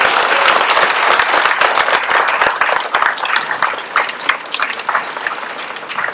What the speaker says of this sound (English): please give a great round of applause for MVLA's class of